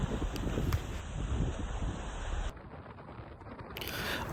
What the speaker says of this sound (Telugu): విండ్ ఎక్కువ ఉంది. గాలి వినిపిస్తుందా?